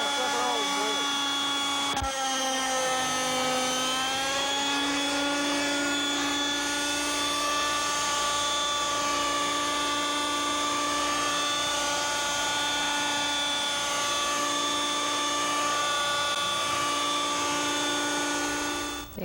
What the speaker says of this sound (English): This is a top-of-the-line competition helicopter.